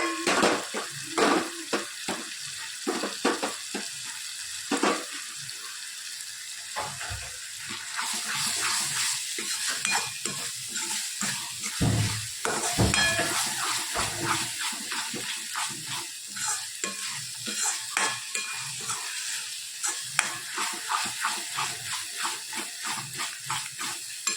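Green onion and green garlic frying in oil in a pan for a whole garlic curry, giving a steady close sizzle with scattered crackles and stirring clatter and no voices.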